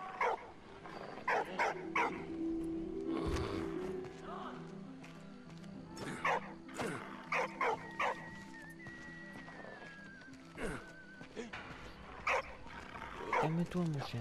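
Dog in a World War I video game barking and yelping in short bursts, with whimpering whines and game effects around it, fairly faint in the mix.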